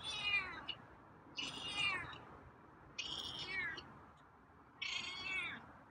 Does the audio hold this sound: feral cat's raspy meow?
yes